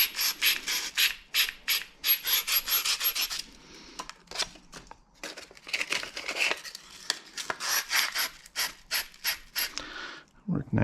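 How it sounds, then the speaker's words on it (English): Close, repeated rubbing and rasping strokes on a Whirlpool dishwasher pump shaft being cleaned to free an old bearing race, coming in uneven bursts with short pauses between them. "I'm just cleaning up this shaft so I can pull the old race off of there"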